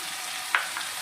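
Chopped onions frying in hot oil for Odia pakudi curry, a steady broadband sizzle with one brief louder crackle near the middle; no talking.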